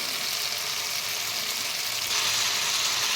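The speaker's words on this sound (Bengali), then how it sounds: "দেখুন এবার ধীরে ধীরে মশলা থেকে তেল ছাড়ছে তার মানে আমাদের মশলা কষানোটা প্রায় হয়ে এসেছে" Spice paste sizzles steadily in hot oil for a mutton curry, a continuous close frying crackle that grows slightly louder near the end, with no talking.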